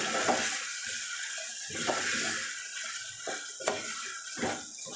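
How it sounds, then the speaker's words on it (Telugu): A spoon scrapes and clinks against a metal pot while tomato mutton curry is stirred, several distinct knocks spaced through a steady background hiss, close and moderately loud. "రుచికి తగ్గ ఉప్పు యాడ్ చేసుకొని స్పూన్తో బాగా కలుపుకోవాలి"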